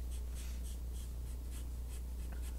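Pencil shading on paper is rubbed and smudged with a finger while drawing hair, giving soft, evenly spaced scratchy strokes, about three per second, quiet and close with no talking.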